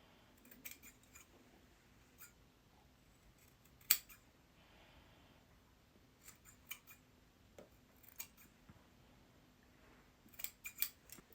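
Scissors snip the corners of fabric in a travel sewing kit, giving a string of quiet, close, sharp clicks spaced irregularly with brief pauses between cuts.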